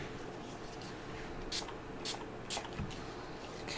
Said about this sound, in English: let's start with a fossilized amber and a sprayer